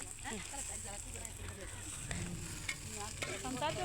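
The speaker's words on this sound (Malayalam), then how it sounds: "ആദ്യം തന്നെ എണ്ണ ഒഴിച്ച് വേപ്പില ഇട്ട് അതിന് ശേഷം സബോള ഇട്ട് ഇളക്കിക്കൊണ്ടിരിക്കുകയാണ്" Onions and curry leaves fry in oil in a pot on an outdoor stove in hot midday sun, the start of a meat curry, with a steady sizzle and stirring running under talk throughout.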